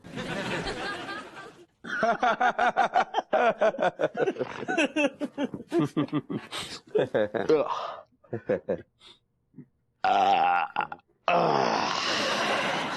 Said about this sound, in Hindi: क्या बात है भाई, बड़ी डकारे मार रहे हो?